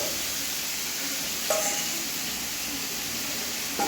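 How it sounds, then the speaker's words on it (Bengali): Spice-marinated chicken frying and being stirred in a kadai for chicken kosha, cooked in a car, a steady soft sizzle with a couple of brief utensil clinks. "এখন রান্না হচ্ছে চিকেন কষা।"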